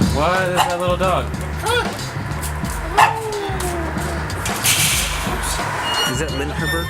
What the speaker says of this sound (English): What is that little dog?